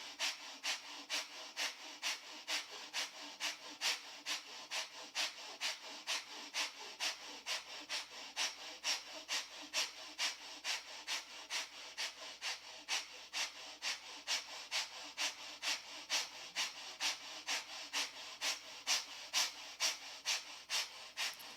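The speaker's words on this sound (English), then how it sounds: "I'm going to finish this pranayama, this breathing practice." Rhythmic forceful pranayama breathing for throat purification, a long even series of sharp breath strokes repeating about twice a second, close and clear with no talk.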